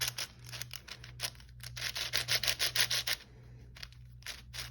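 A 4x4 to 7x7 Rubik's cube turning fast, loosened up, giving rapid clustered plastic clicks and rasps in quick bursts, louder through the middle then trailing off, close up with no talking.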